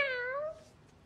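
A girl imitates a cat with a single short, falling meow, faint and alone against quiet room noise.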